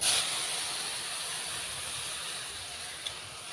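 Milk poured into a hot pan of vermicelli fried in ghee gives a steady, broad hiss that starts loudest and then holds at an even, moderate level, with one faint clink near the end and no talking.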